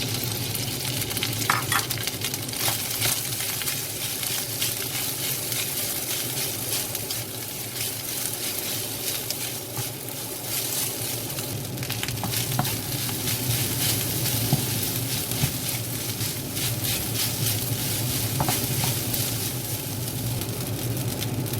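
Garlic frying in a hot pan for chicken inasal, with a steady loud sizzle and repeated scraping stirs throughout, close up and without talk.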